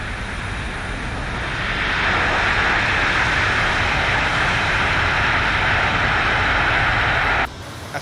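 Airplane landing replay in the X-Plane flight simulator: a loud, steady engine roar swells partway through, holds, then cuts off abruptly near the end.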